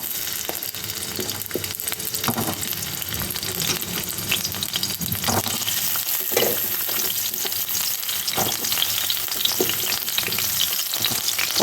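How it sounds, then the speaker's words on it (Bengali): Pieces of pointed gourd frying in hot oil in a pan, a steady close sizzle broken by occasional stirring scrapes, with no talking. "এবার ওতে আরেকটু তেল দিলাম, দিয়ে নিয়ে এবার আমি পটলগুলো ভেজে নেবো লাল লাল করে।"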